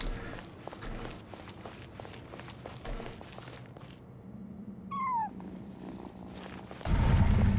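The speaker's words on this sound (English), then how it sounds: "And so I followed the cat's cries to find my way out." A cat purrs and cries in the video game Genshin Impact, with soft rustling movement throughout, a brief rising meow midway, and a louder burst of noise at the end.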